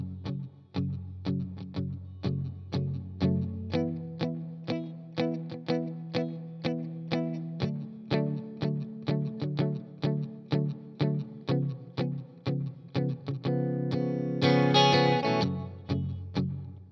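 A guitar strums the verse of a song in a steady rhythm of chord strokes with a slightly processed, effected tone, close and moderately quiet, building with a brighter flourish near the end, without any talking.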